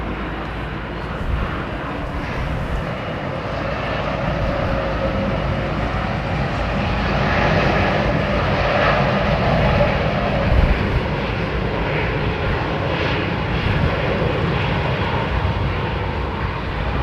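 An older United Boeing 777 jet airliner at London Heathrow, its engines producing a sustained, loud roar with a slowly swelling whine as it passes fairly close.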